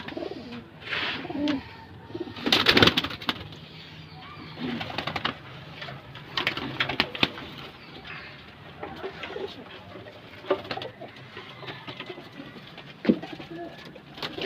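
Chinese fancy pigeons coo softly in a loft, with scattered rustling, wing flaps and a few sharper bird calls over a steady background murmur.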